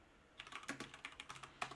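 Fingers tap out a quick, even burst of about a dozen keystrokes on a computer keyboard, close and fairly quiet, over a faint room hum.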